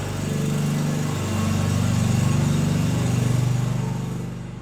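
Backup power generator engine on a small farm, running steadily at close range with a loud, even drone and slight pulsing in level, with no talk.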